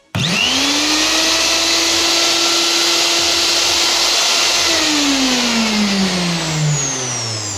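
A high-speed electric motor, freshly repaired with new carbon brushes and spinning at about 28,000 rpm, whines loudly and steadily after a sharp switch-on, its pitch rising then easing down near the end.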